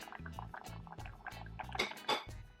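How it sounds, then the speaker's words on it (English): Jamaican jerk chicken sauce simmering in a pan, with faint bubbling and soft drips mixed with low thumping and light clinks of kitchenware, quiet and close. "So you just have it simmering. You just want the sauce to thicken up a bit."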